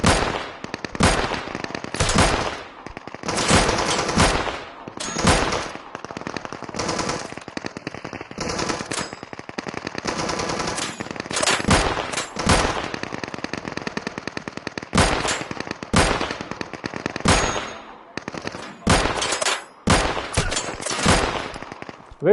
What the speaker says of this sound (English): By far the most intense firefight I've been in.